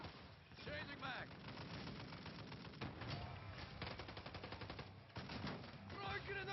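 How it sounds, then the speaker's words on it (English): Gunfire in Call of Duty Modern Warfare 3 multiplayer: continuous rattling automatic fire and battlefield noise packed under shouted voices, dense and steady throughout. "Taking fire!"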